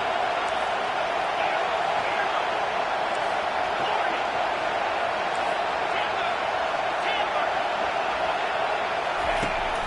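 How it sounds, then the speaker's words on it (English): A football stadium crowd roars steadily and loudly on a third down, a dense wall of cheering with no break across the whole stretch. "Decibels rising as the crowd gets behind this defense on 3rd down."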